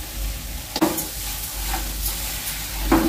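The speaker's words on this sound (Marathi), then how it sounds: "परत चांगले परतून घेते मसाले।" Mixed masala and turmeric frying in a pan for shevlyat kheema, a close continuous sizzle broken by a couple of spoon scrapes as the spices are stirred.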